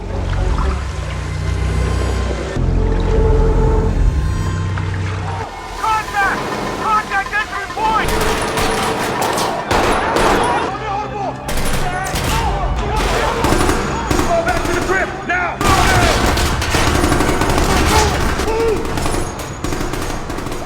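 Loud, rapid bursts of gunfire in an action film, with machine-gun rattles and single shots, mixed with music, effects, and a voice, all dense and intense.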